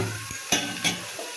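Onions frying in a pan for lentil dal with bottle gourd, giving a close sizzle broken by a few sharp stirring scrapes, with no talk.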